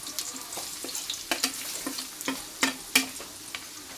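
Ginger and garlic frying in a pan for biryani, a steady close sizzle broken by scraping, stirring clatters of a utensil against the pan, with no voices.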